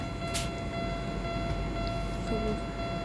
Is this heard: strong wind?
no